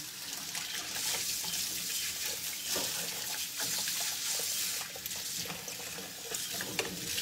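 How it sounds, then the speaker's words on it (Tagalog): Water sputters and splatters steadily from a hot pan on a kitchen stove, a continuous hissing spatter with sharp crackles, close and fairly loud, with no talking. "Tumatalsik eh. Ang tubig."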